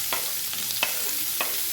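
Onions frying in oil with mustard seeds and cumin, a close, steady sizzle broken by three or four quick scraping stirs of a spoon in the pan.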